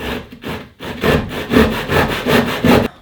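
Hand sawing through wood scraps for a recycled-wood Christmas tree, about six rhythmic rasping strokes in quick succession, close and fairly loud with no voices.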